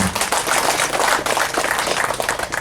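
Outdoor community ceremony crowd applauding, a dense, loud wash of clapping that continues throughout.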